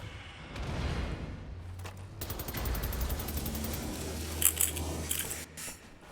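A mounted machine gun fires in the video game Wolfenstein: The New Order: rapid, rattling bursts of gunfire over a low rumbling game background, with a few sharper metallic clicks near the end.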